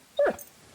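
A dog in the video game Kingdom Come Deliverance 2 lets out one short, high whimper, brief and fairly close against a quiet background.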